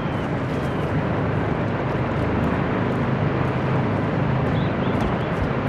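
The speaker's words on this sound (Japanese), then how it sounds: "ヘリが来る" A helicopter approaching in the Call of Duty Modern Warfare 2 campaign, a steady, dense rotor-and-engine roar that holds level throughout with no voices.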